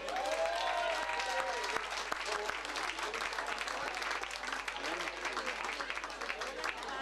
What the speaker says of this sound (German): Lieber Franzke oder Frenzke, hervorragend und dein Applaus.